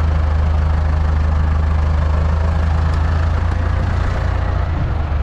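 A tractor engine idles with the PTO shaft engaged, giving a loud, steady low rumble that holds constant throughout with no speech.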